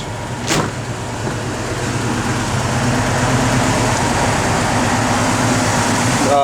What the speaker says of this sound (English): We know the blower motor works.